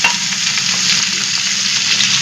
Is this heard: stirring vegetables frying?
yes